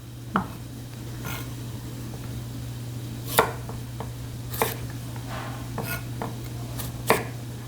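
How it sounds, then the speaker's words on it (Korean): A knife cuts bellflower root (doraji) on a cutting board in a handful of sharp, irregular knocks against a steady low hum, close and fairly quiet, with no talking. "센치 맞춰가지고 썰어서 절반 정도 잘라서 이렇게 해줍니다"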